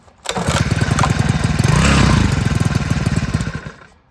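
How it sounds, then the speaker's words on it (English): A cheap Chinese four-stroke outboard motor pulls into life and runs briefly at a rough, steady putter, loud and close, before being cut off after a few seconds. "So I started up right there and cut it off quickly because you guys have to see the oil again."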